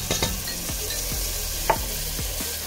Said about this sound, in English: Let's get this to stir up